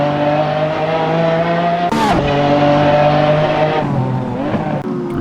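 A race car screams along at high revs on a track, its engine note dropping sharply as it brakes hard for a chicane, then rising and dipping again through gear changes, loud and close throughout.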